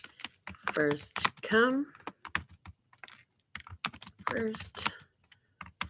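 Computer keyboard typing in quick, irregular bursts of clicks, close by, interleaved with a person's choppy speech.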